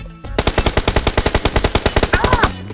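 Rapid automatic gunfire in PUBG Mobile rattles off roughly two dozen sharp, evenly spaced shots in a continuous burst, loud and close, with no talk during the volley.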